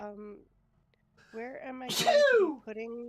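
One sharp, loud sneeze from a person bursts out between stretches of casual conversation, with people talking just before and right after it.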